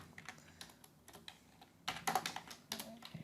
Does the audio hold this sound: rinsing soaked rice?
no